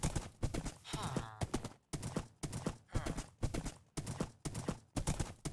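Horse hooves clip-clopping in a steady rhythmic pattern in the Minecraft video game, a close, repeated series of hoofbeats with brief pauses between bursts.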